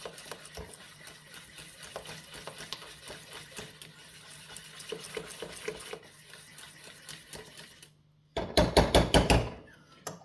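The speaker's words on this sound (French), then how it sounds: "on voit l'efficacité de ce genre de fouet. Un fouet anti-grumeaux." A metal anti-lump whisk works through béchamel sauce in a pan with quick, irregular clinks and scrapes, close by, building to a louder burst of rapid rhythmic strokes near the end.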